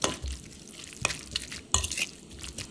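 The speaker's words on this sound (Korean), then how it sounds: "살살살살 비벼주세요." Noodles for kimchi bibim guksu being gently mixed with a seasoning of gochujang, sesame oil and garlic, with soft wet stirring and three sharper scrapes of a utensil against the bowl.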